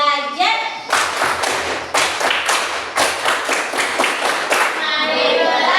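A classroom clapping routine with quick, rhythmic group claps and thumps repeating across several seconds, mixed with a loud chanting voice at the start and end.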